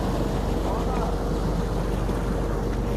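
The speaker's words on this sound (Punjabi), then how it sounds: "ਇਹ ਨਹਿਰ ਦਾ ਪਾਣੀ ਆ ਰਿਹਾ ਇਹ ਆਪਣੇ ਟਿਊਬਲ ਦਾ ਵਿੱਚ ਐਡ ਹੋ ਜੂਗਾ" Canal water gushes into a farm tubewell channel in the early morning, a loud, steady rushing roar close to the microphone, alone and unbroken throughout.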